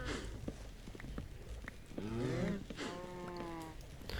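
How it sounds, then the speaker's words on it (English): Several Minecraft cows moo in overlapping calls, fairly loud and close, with shuffling noises in between. "See how loud those cows are?"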